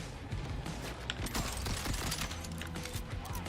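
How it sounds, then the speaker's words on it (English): Rapid crank-action SMG fire in the Borderlands shooter, dense overlapping bursts of gunshots sustained and loud throughout, mixed with game effects and no talking. "I do like this SMG"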